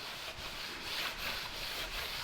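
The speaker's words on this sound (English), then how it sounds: "watch how easy this clear coat scratches, being that it's still so fresh." Fresh clear coat on a car hood being scratched by hand, giving a steady close rubbing scrape with faint periodic strokes, alone.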